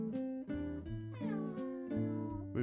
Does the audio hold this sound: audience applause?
no